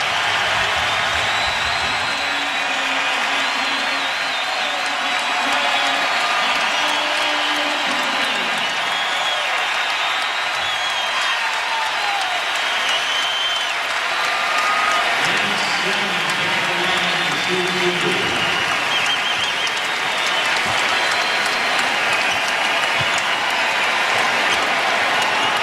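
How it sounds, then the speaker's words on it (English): A packed basketball arena stands and roars for Michael Jordan during a Wizards versus Sixers game, a continuous loud wall of cheering and applause through the whole timeout. "the entire timeout, a whole building standing and cheering"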